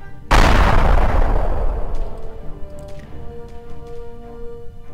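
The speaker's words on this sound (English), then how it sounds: "just for a laugh, we'll hurl this grenade" A thrown grenade detonating in the turn-based video game Airship Dragoon: one sudden loud, booming blast that rumbles and decays over a couple of seconds, followed by faint ringing tones.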